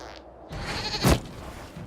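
A goat in Dragon Age: Inquisition gives a single short bleat, brief and fairly clear over quiet background sound.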